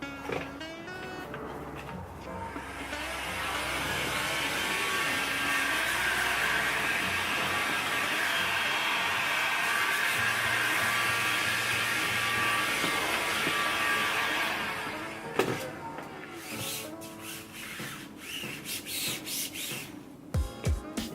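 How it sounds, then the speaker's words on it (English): A heat gun blows hot air onto vinyl wrap on an R32 Skyline wing, a loud steady fan roar with a high motor whine that lasts about fifteen seconds, then switches off, leaving rustling and tapping handling sounds. "Grab the heat gun."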